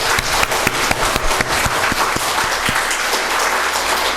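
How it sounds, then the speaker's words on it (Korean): A Korean church congregation, standing at its 23rd-anniversary Sunday service, claps loudly and continuously, a thick wash of many hands with a few sharper individual claps showing through. "기쁘신 분들은 박수하십시다."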